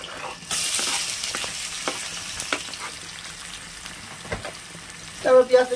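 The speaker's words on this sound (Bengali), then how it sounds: "রসুন ফোড়নটা হলো এবার দিয়ে দেবো পেঁয়াজ" Onion frying with garlic and black cumin in a Bengali home kitchen, a close sizzle with sharp spoon scrapes and taps as it is stirred, louder bursts of clatter near the end.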